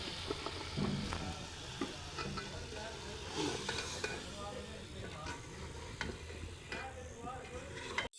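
Potatoes fry and sizzle in masala for a village-style curry, a continuous crackling hiss with scattered stirring scrapes and ticks against the pot throughout, close and fairly loud.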